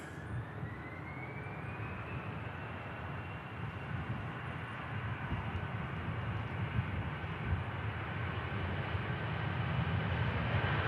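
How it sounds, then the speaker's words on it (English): EasyJet airliner engines spool up at Manchester Airport, a distant broadband roar with a rising whine that steadily grows louder across the stretch, heard alone without talk. "EasyJet just spooling up"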